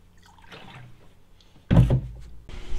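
Liquid root treatment is poured into a greenhouse's 1,000-gallon reservoir tank. Quiet faint handling noises come first, then a sudden loud splashing gush of liquid that keeps running to the end.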